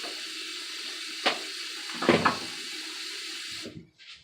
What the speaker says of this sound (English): we're going to go ahead and add more water to the pitcher